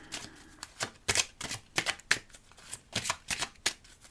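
Tarot cards are shuffled and drawn by hand in quick, irregular papery riffles and flicks, close and fairly quiet, with no voice over them.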